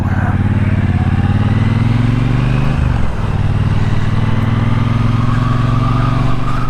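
Steady, loud motorcycle engine drone in cold, flurrying weather, holding a constant low rumble with a brief dip midway before resuming as the bike rides off.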